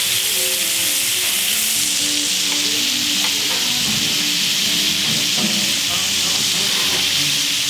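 Steak sears in a hot pan, a loud, continuous frying sizzle and hiss with occasional crackles and stirring or scraping sounds, close up and without speech.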